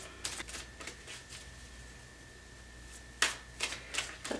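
Tarot cards shuffled by hand, a quiet series of short papery riffles and flicks in two clusters separated by a pause.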